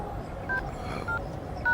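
Telephone keypad dialed, a few short DTMF tones spaced apart over a low steady background hiss.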